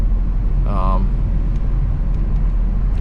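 A 2018 Ford Fusion Sport with a Borla exhaust gives off a steady, low, droning rumble that carries through the whole stretch, with a brief voice rising over it early on.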